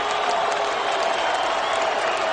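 A steady, dense crowd roar of cheering and applause from San Jose fans after Cung Le's knockout win at an MMA event, continuous and loud throughout with no clear individual voices.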